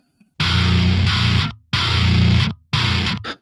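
Distorted bass guitar tracks doubling the main parts in a mix, three loud, gritty, sustained chugs about a second long each, separated by brief silences, with the last one cut short.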